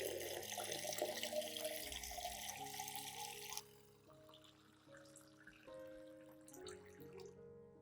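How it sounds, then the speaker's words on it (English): Clean water poured into a container to dilute a plant solution, a steady splashing stream for a few seconds that stops abruptly, followed by faint drips and quiet tones. "Add 1 liter of clean water to dilute the solution."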